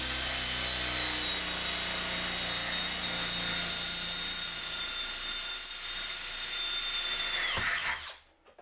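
A Makita hammer drill running continuously at a high, steady whine with a rattling mechanical texture, close and loud, before it winds down and stops near the end.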